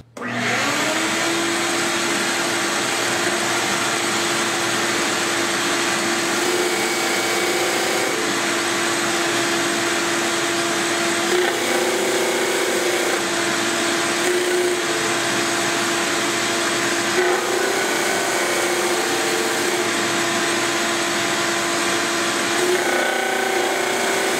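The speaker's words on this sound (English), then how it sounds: "So I'm going to turn on the vacuum, fire it up, and we'll smooth out those edges." A shop vacuum runs loudly and continuously while a tool smooths the edges of wooden cutouts, a steady whining roar with slight shifts in pitch throughout.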